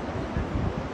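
Wind at an uncrowded beach with rough surf roars across the microphone as a brief, steady low rumble of gusting air.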